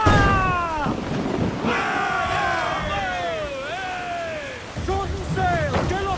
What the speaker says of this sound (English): Shorten sail! Get off the squall!